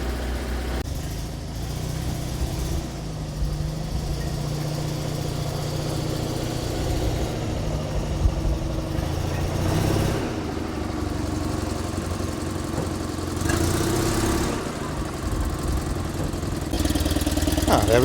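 A Citroen 2CV's flat twin engine idles steadily as it warms up, a continuous low chugging drone that holds at an even level for the whole stretch with no talk over it.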